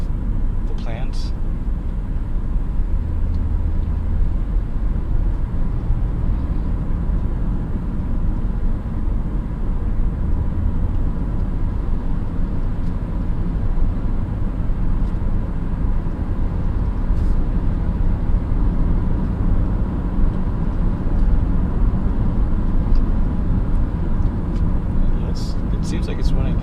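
A 2002 Honda Odyssey is on a test drive, heard as a steady road and engine rumble from inside the cabin. Someone talks over it throughout, with a few faint clicks and rattles.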